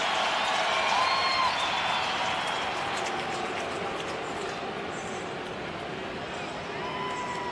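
A baseball stadium crowd at an Astros game, with Gerrit Cole pitching, roars in a steady, loud, continuous wash of cheering and murmur that eases slightly, with a faint whistle tone near the start.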